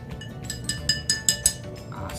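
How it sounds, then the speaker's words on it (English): A spoon stirring food coloring into a cup of water, a quick run of bright clinks against the cup, close and moderately loud. "Give it a stir."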